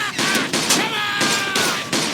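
Gunfire rattles through a shootout in the game Mafia II, with repeated loud, close bursts of overlapping shots in a dense, continuous barrage.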